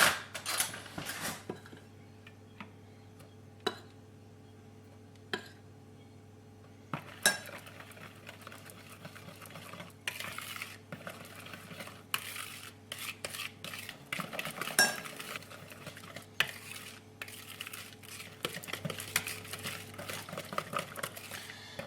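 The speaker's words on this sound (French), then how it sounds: "pendant que je vais mettre toute ma farine petit à petit, je vais faire monter mes jaunes" Egg yolks being whisked for a vanilla cake while flour goes in bit by bit, with quiet intermittent clinks and scrapes of a utensil against a bowl that grow busier and more rapid partway through.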